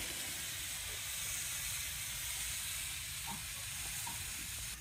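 Radish bhaji frying in a pan, giving a steady, close sizzle and hiss that runs unbroken throughout, with faint stirring clinks now and then and no talking.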